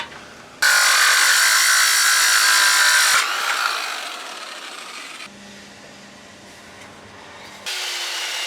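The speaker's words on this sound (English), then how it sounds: "luckily the boat comes with a circular saw" Rusty-bladed circular saw on an old catamaran under refit, a loud broadband cutting whine that starts abruptly, holds steady for a few seconds, fades into a lower running drone, then surges loud again near the end.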